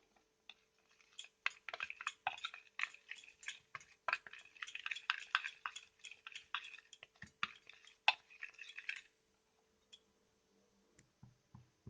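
Homemade garam masala paste being stirred with a spoon after two to three spoonfuls of water are added, giving a close run of quick scraping, clicking strokes that stops near the end, followed by a few faint taps.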